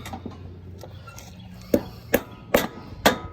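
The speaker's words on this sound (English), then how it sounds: "I grab a nice size hammer" A hammer strikes a wheel onto the steering spindle of a Craftsman lawn tractor close up. A few light taps are followed by four sharp, evenly spaced blows.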